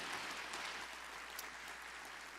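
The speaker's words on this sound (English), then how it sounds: "Give her a nice round of applause." Applause from a symposium audience on climate change in Kingston, a steady wash of clapping heard faintly and from a distance across the whole stretch.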